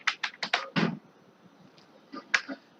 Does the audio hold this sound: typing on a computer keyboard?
yes